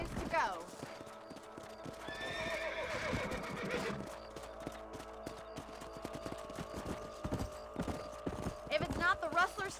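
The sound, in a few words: horse riding and whinnying in Red Dead Redemption video game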